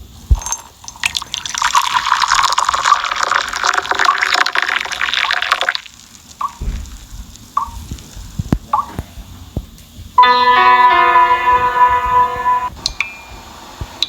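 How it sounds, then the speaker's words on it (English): Hot water from a pot pours into a coffee dripper in the Edda Cafe video game, a steady hissing splash for several seconds, then short drips, a brief ringing glassy tone and more pouring. "As I pours the hot water from the pot into the coffee dripping"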